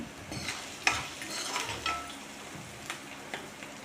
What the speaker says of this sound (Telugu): తగినంత పసుపు పసుపు కూడా ఆయిల్లో కొంచెం ఫ్రై అయితే బాగుంటుందండి